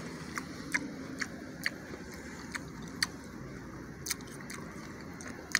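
Biting and chewing sugar baby watermelon: soft, wet, crisp crunches in an irregular rhythm, close and fairly quiet, with no talk.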